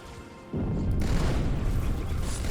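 In Halo 2, incoming gunfire strikes the player with a sudden heavy boom, followed by a sustained, rumbling barrage of hits and noise that stays loud until the end.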